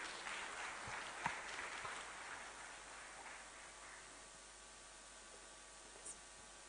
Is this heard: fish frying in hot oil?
no